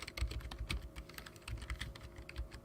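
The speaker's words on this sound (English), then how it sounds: "Who's typing? Is that you typing?" Rapid, uneven keystrokes clatter on a computer keyboard, close and continuous, with no voices.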